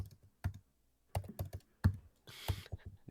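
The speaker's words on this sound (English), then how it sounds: "Can you guys tell what I'm typing right now?" Rapid typing on a computer keyboard, close and clear, with irregular bursts of key clicks and short pauses between them, no talking.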